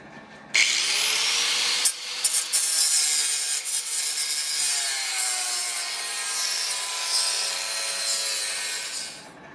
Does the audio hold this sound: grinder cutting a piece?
yes